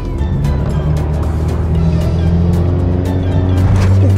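A car driven on two wheels at steady throttle gives a loud, continuous engine drone with a constant low hum and unchanging pitch, close and alone.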